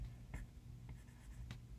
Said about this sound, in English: Drawing a mu is hard.